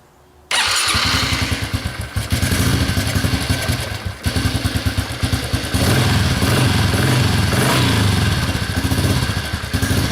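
A dirt bike engine fires up suddenly and runs close and loud, a rough, chattering idle broken by repeated revs and a brief dip before picking back up.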